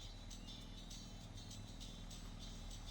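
A truck engine idles steadily in Farming Simulator 22, a constant low rumble with a faint periodic whine on top, close and unbroken with no talk.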